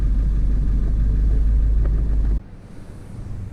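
A Ford F250 pickup with the 7.3 Powerstroke diesel engine driving, a loud steady low rumble that drops abruptly to a quieter idle-like drone partway through, with no talking.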